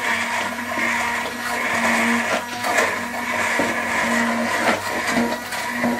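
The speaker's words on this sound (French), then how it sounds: "Et je vais mixer mon petit jus avec les pommes, le gingembre." Kitchen blender whirring steadily as it blends a juice of apples and ginger, a loud continuous motor drone with slight fluctuations in pitch, no voices.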